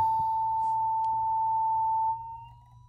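A circular Chladni plate driven by a sine tone at 890 Hz sings with a steady, pure pitched tone for about two seconds, then fades quickly away.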